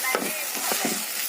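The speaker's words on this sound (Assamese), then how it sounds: "এইটো চাওক ট্ৰেডিশনেল হাতিয়াৰ জবৰা শাক হিলাবলৈ" Jabra greens fry in a pan while a traditional utensil stirs them, producing a continuous sizzle broken by several scraping, rustling strokes at an irregular rhythm, close and moderately loud.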